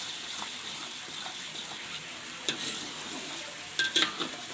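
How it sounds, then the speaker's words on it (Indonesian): Blended garlic sautés in oil in a pot, giving a steady soft sizzle throughout with a few sharper clinks and stirring bursts near the end. "Nah, ini kita tumis dulu."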